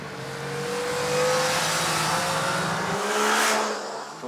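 A Yamaha Niken three-wheeled motorcycle runs fast on a wet track, its engine note rising and falling through shifts with a whooshing wash of spray, loud and close, the tone dropping sharply near the end.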